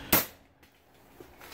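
A single sharp gunshot from a rusty gun found in a storage unit cracks out loudly once, then fades into near silence.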